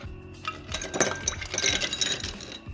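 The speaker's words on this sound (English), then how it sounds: "And fill your mixing glass with ice." Ice cubes drop into a cocktail mixing glass in a quick cluster of bright, close glassy clinks and rattles lasting a couple of seconds.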